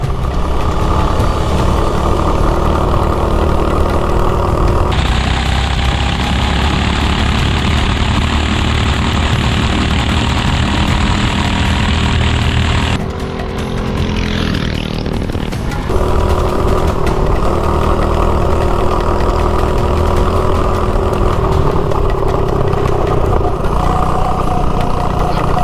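A Tillotson 212 engine fitted to a 24 volt Razor dune buggy drones loudly and steadily up close, rising in pitch as it accelerates, with a brief dip in the middle before revving again.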